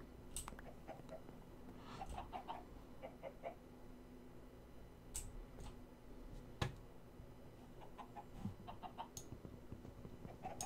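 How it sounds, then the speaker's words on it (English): Chicken clucking in the Minecraft video game, a few short scattered clucks and clicks at moderate distance over a low background murmur. "Stupid chicken."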